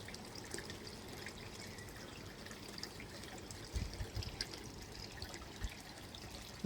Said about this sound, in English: The skimmer's been going,